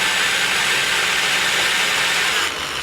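A drill bit bores into glass for a small desktop incense burner or letter holder project, producing a loud, steady whirring and grinding roar that holds constant and eases slightly at the end.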